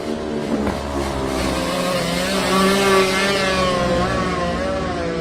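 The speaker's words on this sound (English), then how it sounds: "This is a two-stroke, we'll let you hear this one get away." A two-stroke racing motorcycle pulls away from the start of a Manx Grand Prix lightweight race, its engine revving up loudly and rising in pitch as it accelerates, heard alone.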